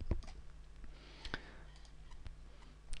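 A single soft computer mouse click, a brief tap with a few other faint clicks scattered around it over a quiet room hum.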